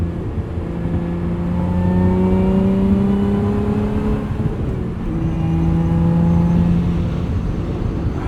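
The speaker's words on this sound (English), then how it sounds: "Get some subtle burbles from the exhaust in sport and track mode." A 2024 Lotus Emira sports car with a six-speed manual revs and accelerates with a low, throaty exhaust rumble and subtle burbles that rise in two pulls, steady and close throughout.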